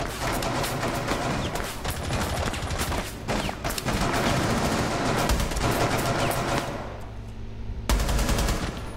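Rapid automatic gunfire in the Rainbow Six Siege video game: dense, loud bursts of shots crack almost continuously, with brief pauses between volleys and no voices.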